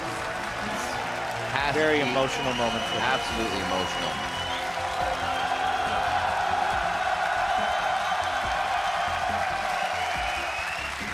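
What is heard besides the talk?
audience applause for Dyrus at 2015 Worlds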